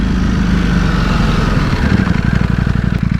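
A 2020 Ducati Panigale V4S motorcycle engine runs loud and close, a deep throbbing rumble that settles into a rapid pulsing beat toward the end.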